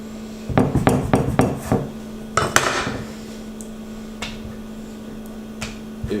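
A knife cuts a square of won ton dough into four on a board, giving a cluster of sharp, close knocks followed by a few scattered taps. A steady low hum sits underneath, and there are no voices.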